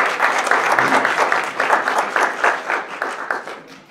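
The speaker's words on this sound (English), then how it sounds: "Everybody just give him a round of applause." An indoor audience at a recruiting event claps together, a brisk, moderately loud patter of hands lasting a few seconds before gradually thinning out.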